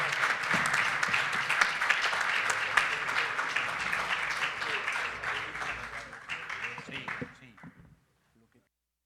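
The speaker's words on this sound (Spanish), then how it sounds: "un fuerte aplauso para el presidente Quiroga, el presidente Duque, el presidente Lazo." Audience applause for three presidents at a panel session, a sustained burst of clapping in a hall that gradually thins and fades out to near silence.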